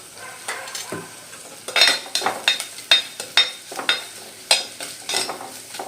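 Okra, tomato and cooked prawns being sautéed and stirred in a pan, with a steady sizzle of frying punctuated by repeated sharp scrapes and clinks of a spoon against the pan, close up, no talking.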